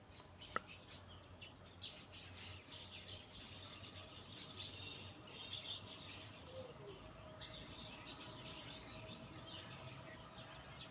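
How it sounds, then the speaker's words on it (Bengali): Birds chirping and squawking around their nests in a sunny village spot, a steady busy chorus of calls at moderate distance with one sharper call early on. "এই জায়গায় সব পাখির বাসা। কিচিমিচি করতে আছে"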